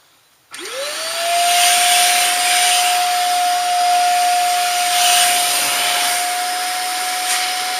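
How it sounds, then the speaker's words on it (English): A vacuum cleaner switches on to suck up carpet cleaner, its motor rising to a loud steady whine with a rushing hiss of suction, running continuously up close. "I'm gonna go ahead and get ready to vacuum it up."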